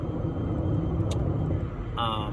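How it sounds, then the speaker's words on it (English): A 1974 Chevy K20 4x4 pickup idling with open headers, a loud close low rumble with a steady throb, a brief clink partway through and a voice speaking over it near the end. "We're gonna try and drive it all the way home with open headers"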